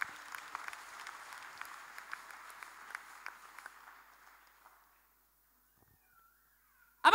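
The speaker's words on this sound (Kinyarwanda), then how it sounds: "Dukomere imana yacu amashyi." A church congregation applauds during a sermon on prayer, a dense crackle of clapping that holds steady for several seconds, then thins and fades out, leaving near silence.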